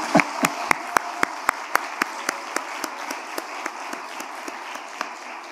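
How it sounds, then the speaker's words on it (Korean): A church congregation at an ordination service claps in unison, sharp evenly spaced claps that start crisp and gradually fade and thin out, with a faint murmur beneath. "우리 김일홍 집사님 위해서 박수 한번 칩시다"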